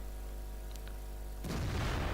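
Tank cannon shot from an FV215b in World of Tanks, a sudden heavy boom partway through, after a low steady engine hum, with rumbling decay to the end.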